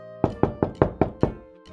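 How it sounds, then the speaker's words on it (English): A door is knocked on six times in a quick, even rhythm. Each rap is close and crisp, the raps come alone without speech, and a faint tonal hum lingers behind them. "Knock, knock!"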